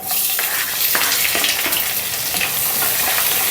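Onions sizzle and crackle steadily in an oil-filled pan for okra masala curry, a close, continuous frying hiss with small pops and occasional stirring, no voices.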